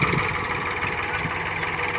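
A tractor engine runs steadily while forming ridges for planting in a farm field, a continuous, fairly loud droning rumble with no talking.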